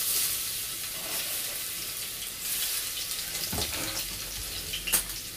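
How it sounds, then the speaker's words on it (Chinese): Minced garlic sizzling in a little oil in a wok, a steady hiss of frying with a couple of brief clinks of a utensil stirring against the pan. "少少啲油啦，俾少蒜蓉落去。"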